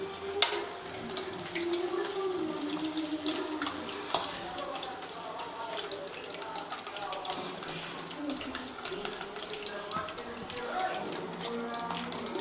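Chicken 65 leg pieces fry in hot oil with a steady sizzling hiss and crackle throughout, and a sharp clack near the start.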